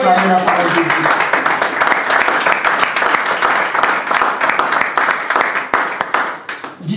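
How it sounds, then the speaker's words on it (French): Church congregation breaks into sustained applause, a dense crowd of clapping hands at close range that continues steadily for several seconds before tapering off. "Est-ce qu'on peut acclamer la parole de Dieu?"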